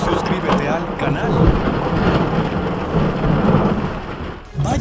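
Thunderstorm with heavy rain pouring steadily and low thunder rumbling throughout, a dense, loud, continuous wash that briefly dips near the end before returning.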